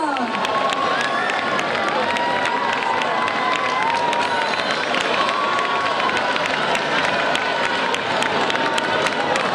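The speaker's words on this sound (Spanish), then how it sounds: "¡Aplauso para él!" An audience at an outdoor village festival concert by a Galician dance orchestra claps and cheers loudly, a dense continuous roar of applause with shouting and some voices mixed in throughout.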